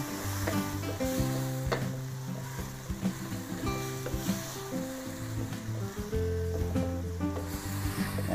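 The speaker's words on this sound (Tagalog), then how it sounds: "Haluin lang po natin." Silver fish (dulong) being stirred in a pan, with a steady sizzle and scraping utensil strokes running throughout at moderate volume, alongside faint background tones.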